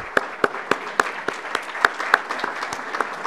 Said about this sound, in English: I'd like to have a round of applause for our host here at WakeMed